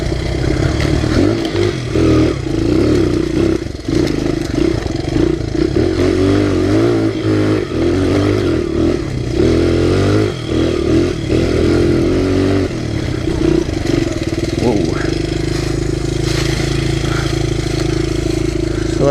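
A Honda XR100 pit bike being ridden off-road, its small single-cylinder engine droning loudly and steadily close by, with revving swells and some clattering throughout.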